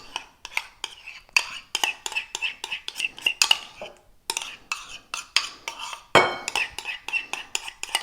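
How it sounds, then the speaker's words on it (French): A spoon stirs fromage blanc in a clean salad bowl, giving a steady run of sharp clinking and scraping strokes against the bowl in quick rhythm, close and fairly loud, without speech. "Dans un saladier tout propre, on va mélanger notre fromage blanc"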